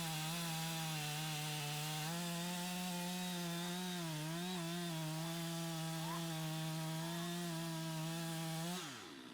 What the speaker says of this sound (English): The logger returns to his chainsaw and begins cutting the trunk into shorter sections.